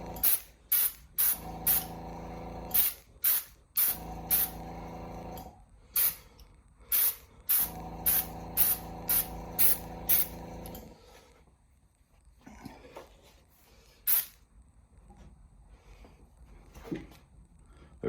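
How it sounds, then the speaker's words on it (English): Spray gun laying orange paint onto a Rollergames pinball playfield during restoration, a series of short, sharp hissing bursts in a steady rhythm, some longer, followed by quieter sporadic puffs and handling noise. "I'm going to try to get a wider spray pattern."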